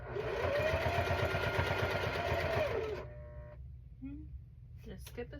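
A home sewing machine stitching a quilt block runs loud and steady with an odd, uneven buzz for about three seconds, then stops abruptly, leaving a few faint clicks and soft shuffling.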